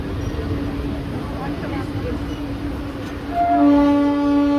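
A passenger train rumbles steadily near Perambur Carriage Works station, then a loud, sustained horn blast starts near the end and holds over the rolling noise.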